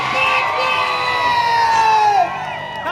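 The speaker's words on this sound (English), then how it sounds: "Make some noise for Sebastian and Roman." A large crowd cheers and shouts loudly at a motocross freestyle show in Shillong, a sustained roar of voices with children's high shouts, easing slightly near the end.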